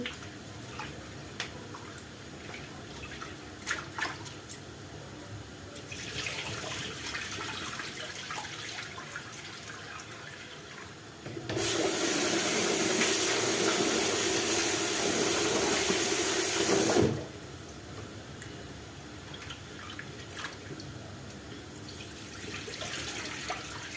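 Tap water runs into a bowl as rice is rinsed a second time in a home kitchen, a loud steady gush for about five seconds midway, with quieter splashing and handling before and after.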